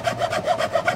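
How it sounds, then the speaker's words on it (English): Wood rasp filing a guitar body in a tight spot, close and loud, with a steady rhythm of about six quick rasping strokes and no talking. "when you get into these real tight spots, sometimes you just have to go to rasps and things"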